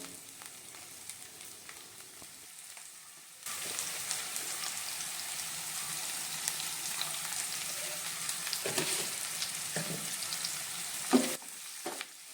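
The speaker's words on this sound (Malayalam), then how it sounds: "വലിയുള്ളി അരിഞ്ഞത് കൂടി ചേർത്ത് നന്നായിട്ട് ഇതൊന്ന് വഴറ്റിയെടുക്കാം" Chopped onion and cinnamon hit hot coconut oil and begin a steady, moderate sizzle, with occasional clinks and scrapes of stirring in the pan. The sound is close and carries no talking.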